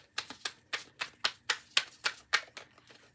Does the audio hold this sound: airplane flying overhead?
no